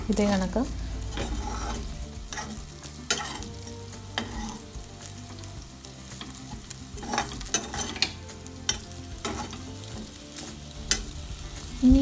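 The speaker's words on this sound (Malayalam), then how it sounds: "ഇപ്പോൾ ഈ വെജിറ്റബിൾസും റൈസും കൂടി നന്നായിട്ട് ഫ്രൈ ചെയ്തെടുക്കാം." Vegetables and rice with cashew nuts are stir-fried in a pan: a close, steady sizzle broken by frequent sharp spatula scrapes and knocks, with a few brief spoken words.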